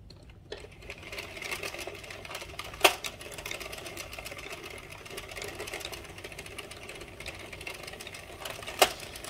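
An Addi King knitting machine cranks out rows with a steady, close mechanical clatter, broken by two sharp clicks, with no talking.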